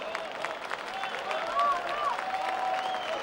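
Stadium applause at a Qarabağ football match as player Qarayev is substituted off, with steady clapping and crowd noise throughout and a commentator talking over it.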